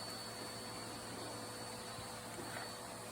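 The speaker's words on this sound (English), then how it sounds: "It's a different vacuum cleaner." A Bissell vacuum cleaner runs steadily throughout, a constant broadband whoosh with a faint high motor whine and low hum, fairly quiet and unbroken, with no voices.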